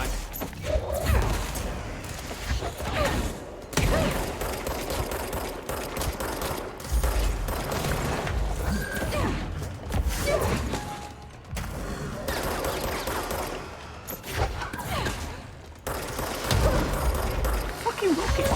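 Rapid rocket explosions and bursts of gunfire from a video game, loud and nearly continuous over the whole stretch, with a voice talking over the action.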